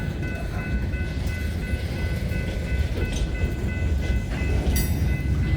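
A freight train on the DeQueen and Eastern / Kiamichi railroad rumbles past nearby, with a steady low roar, rattling wheels and clanking cars throughout.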